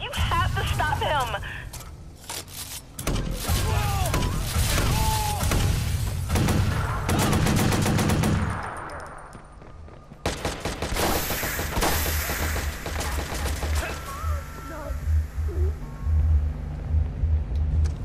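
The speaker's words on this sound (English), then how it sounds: "Somebody's shooting." Gunfire and explosive booms in an online free-roam city game, bursts of fusillade and heavy thuds over a rumbling backdrop, with voices talking throughout.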